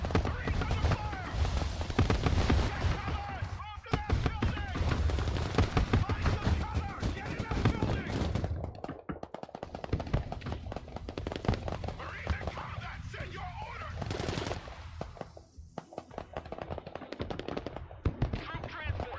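Battle gunfire and heavy blasts in the strategy game Broken Arrow, dense overlapping shots and booms with radio-style voices talking over the fighting throughout.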